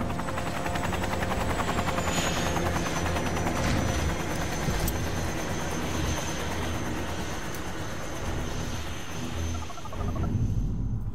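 Helicopter in the video game Prototype 2 coming in to land, a steady loud rotor and engine drone with a whining turbine tone, continuous throughout with no voices.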